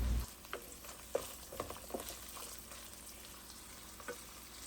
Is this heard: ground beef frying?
yes